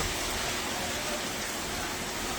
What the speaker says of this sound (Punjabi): ਤੇਜ਼ ਮੀਂਹ ਪੈ ਰਿਹਾ ਹੈ ਹੁਣ ਕਾਫੀ ਤੇਜ਼ ਹੋ ਗਿਆ